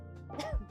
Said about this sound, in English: Grandma just sneezed really loudly.